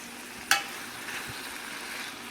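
Spinach cooking in a pan alongside salmon, a soft continuous sizzle with one sharp clink of a utensil near the start, no talking.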